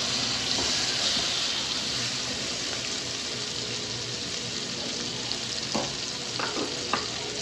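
Vegetables frying in butter in a pan, a steady close sizzle throughout with a few faint clinks near the end and no talking.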